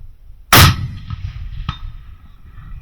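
A 6.5 Creedmoor rifle fires at long range: one loud, sharp report, then about a second later a brief metallic ring as the bullet strikes a steel target, with no talk.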